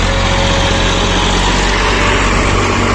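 A tractor engine, an 855 pulling a seed drill during wheat sowing in a field, runs at a loud steady drone throughout with no pauses.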